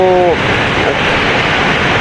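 Sea waves surge up onto a coastal road, a continuous loud wash of rushing water and wind noise with a brief tonal hum at the start.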